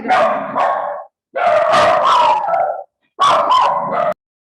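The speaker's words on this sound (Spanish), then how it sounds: "Estos perros ya quieren predicar, quieren hablar del... Es que son pero escandalosos." Several dogs bark, yip and howl in three loud, close bursts separated by short pauses, with no talking.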